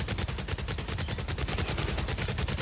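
Video game gun turrets firing a fast, steady stream of shots for a few seconds, loud and close with no talking.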